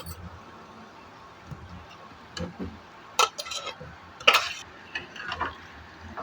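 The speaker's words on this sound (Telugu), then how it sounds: "ఇప్పుడు ఇందులో రొయ్యలు వేసుకోవాలా." Prawns go into a pan with garam masala, a few soft clinks and scrapes of a utensil against the metal, with brief louder clatters near the middle against a quiet, low background.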